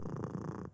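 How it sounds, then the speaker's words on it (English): A cat purring steadily, close and fairly loud, a continuous low rumbling throb with no voices, cut short at the end. "Yes, you can stop purring now."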